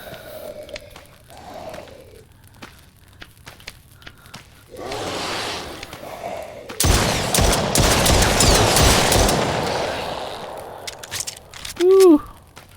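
Gunfire from the defender weapon in The Brookhaven Experiment, a VR wave shooter, comes as a dense, loud burst of rapid shots lasting a few seconds. Quieter breathy sounds and brief vocal noises occur before and after the burst.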